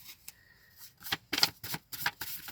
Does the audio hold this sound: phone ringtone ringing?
no